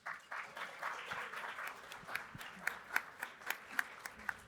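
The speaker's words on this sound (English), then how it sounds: "Give them a round of applause, please." Audience applause for panelists at a healthcare panel discussion on integrating primary and behavioral care: a steady wash of clapping that thins out into a few scattered, distinct claps near the end.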